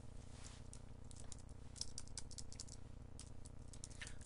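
A name typed on a computer keyboard while working in Photoshop, with a steady run of soft, quick key taps over a low background hum and no voice.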